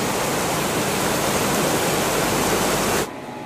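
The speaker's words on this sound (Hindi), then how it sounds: "यहाँ हमें मिला एक देखिए झरना टाइप का, और ये पानी फ्लो हो रहा है" Steady, broadband rushing of water pouring over a small waterfall beside the Bhagirathi River, loud and close, cutting off sharply near the end.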